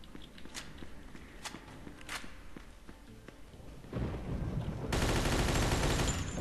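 Gunfire in the Mafia 2 video game: a few sharp, separate shots ring out, then a dense, loud burst of sustained shooting builds toward the end.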